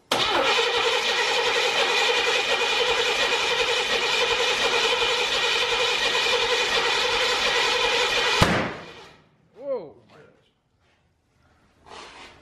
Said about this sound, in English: Leave the switch off and just crank it for a few times first.